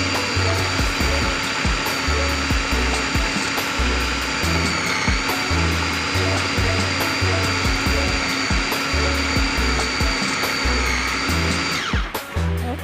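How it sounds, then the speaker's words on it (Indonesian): A kitchen blender runs continuously at a steady loud whir, grinding a fish and carrot mixture with a little cooking oil into a smooth paste for fish balls, then cuts off abruptly near the end. "Kita blender lagi ya"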